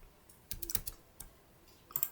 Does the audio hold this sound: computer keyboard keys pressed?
yes